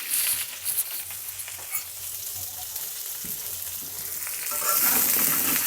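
Potato pieces fry in a hot pan with turmeric and salt, a dense continuous sizzle that swells louder toward the end, with a few soft stirring scrapes.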